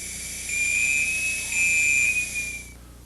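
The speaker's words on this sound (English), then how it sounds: "listen for the warning whistle" High, shrill low-pressure warning whistle from an Airboss breathing apparatus, sounding close and loud in two steady blasts over a hiss of escaping air, then fading out as the pressure drops.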